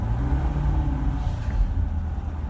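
Chevrolet C7 Corvette engine idling in its quiet default mode, a low steady rumble with a smooth even drone, fairly close and without revving or any voices.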